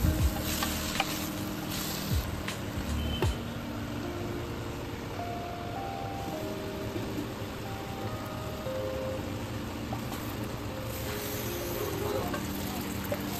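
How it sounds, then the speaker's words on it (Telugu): Marinated chicken sizzling and being stirred into fried onions for a Telangana-style chicken curry, a steady close frying hiss with scattered scraping and clinking of the spoon against the pan. "ఆనియన్ వేగాక మనం ముందుగా మ్యారినేట్ చేసుకున్న చికెన్ వేసుకొని మంచిగా కలుపుకుందాము"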